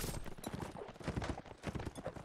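Cavalry horse hooves pound in a rapid, irregular clip-clop during a video game battle, dense and fairly faint, with scattered clashing noise mixed in.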